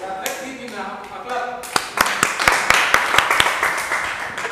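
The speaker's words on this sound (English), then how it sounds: "Let's give him a clap." A classroom of students claps for a classmate, a burst of sharp, scattered hand claps that grows denser and louder after a moment of quieter sounds, ringing out close by in the room.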